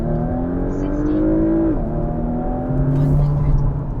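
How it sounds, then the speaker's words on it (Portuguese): A 380 hp 2021 Porsche Macan GTS pulls away hard under launch control, its engine tone steady and rising continuously for about four seconds with a brief shift dip midway. "ele faz esta espécie de launch control e aqui parece sem dúvida bem rápido"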